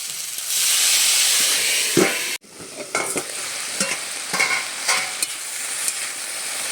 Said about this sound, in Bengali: ভেন্ডিটাকে নেড়ে চেড়ে বেশ সুন্দর করে এভাবে ছেলিয়ে দিচ্ছি।